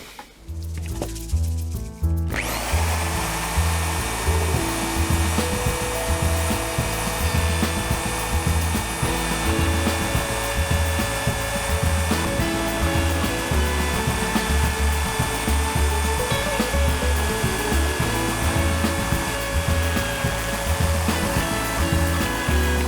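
An electric drill whines at a constant pitch for a long stretch after a brief start, with grinding, rubbing texture from the bit working into a Honda CB1300 S handlebar.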